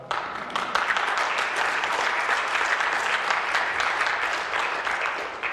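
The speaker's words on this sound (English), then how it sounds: "Yeah, you can clap." A church congregation applauds during a morning worship service: steady, dense clapping that swells in within the first half second and holds at an even, sustained level throughout, with no voices over it.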